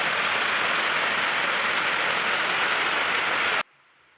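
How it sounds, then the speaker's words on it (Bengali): Steady rain falls in a loud, even hiss with no voices, continuing unbroken before cutting off abruptly just before the end. "আজকে সকাল থেকে বৃষ্টি হচ্ছিল"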